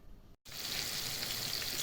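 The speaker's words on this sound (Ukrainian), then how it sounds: "Смажимо гарно з обох сторін до такої кірочки" Loud, close sizzling of cabbage-and-semolina patties frying in a hot pan until crusty, a dense crackling hiss that cuts out briefly and then returns steadily.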